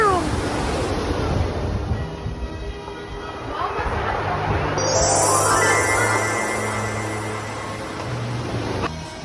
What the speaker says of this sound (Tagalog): Ayan, ang dagat nila.